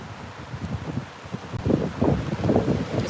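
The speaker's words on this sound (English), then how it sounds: "It's very windy" Strong wind buffets the microphone in low rumbling gusts outdoors, swelling louder in the second half and running on without any talk.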